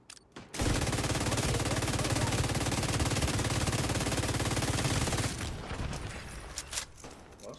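A long burst of rapid automatic gunfire in the video game The Division 2 rattles loudly for several seconds, then tapers into scattered, fainter shots.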